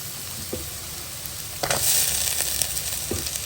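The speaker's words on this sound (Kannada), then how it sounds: "ಈಗ ಇದಕ್ಕೆ ಈರುಳ್ಳಿಯನ್ನು ಸೇರಿಸ್ಕೊಳ್ತೀನಿ ಕಟ್ ಮಾಡ್ಕೊಂಡಂಥ ಈರುಳ್ಳಿ" Chopped onions dropped into a hot pan of oil, hissing into a broad steady sizzle with a few clinks and stirring scrapes, close and fairly loud, no voices.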